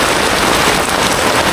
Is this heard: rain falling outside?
yes